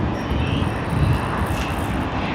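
A Qantas Boeing 737 at Sydney Airport gives off a steady, moderate jet engine roar, broad and continuous, with no voices over it.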